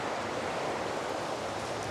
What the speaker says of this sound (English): Here is the Chattahoochee River.